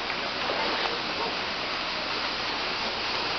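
Aya-Aya Falls in Lugait pours in a continuous, even broadband rush of falling water that sounds close and dense, with no pauses throughout.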